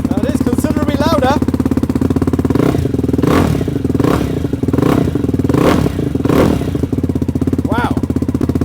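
A Ducati Hypermotard 698 fitted with an Austin Racing exhaust, baffles removed, revs loudly outdoors in repeated throttle blips over a steady idle, with brief voices exclaiming early on.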